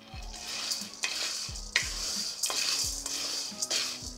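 Chickpeas dry roasting in a pan, stirred with a utensil that scrapes and clinks against the metal at a steady, repeated rhythm, with a soft sizzle underneath and no talking.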